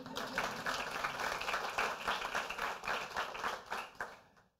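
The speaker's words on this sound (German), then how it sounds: "Ich glaube, dafür hat er sich einen kleinen Applaus verdient." A small audience applauds at a Wikimedia Fellow Programm 2018 event, even, continuous clapping from a roomful of people that holds steady for several seconds, then tapers off quickly at the end.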